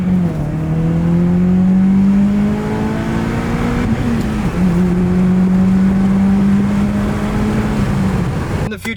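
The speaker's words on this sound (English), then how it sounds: "I actually enjoy the sound of this exhaust." Acura TSX CL9 with a Fastline 3-inch exhaust running, a loud close engine drone with a steady low tone that rises slightly, breaks briefly mid-way, then holds again, with no talk.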